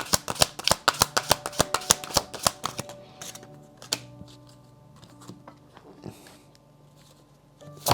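Tarot cards shuffled by hand for a reading give a rapid run of crisp, close riffling snaps for about three seconds, then softer scattered card slides and taps fade to quiet.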